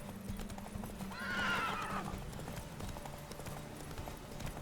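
Roach the horse racing in The Witcher 3: rapid hoofbeat clip-clop runs steadily throughout, with a clear neigh rising about a second in, close and moderately loud.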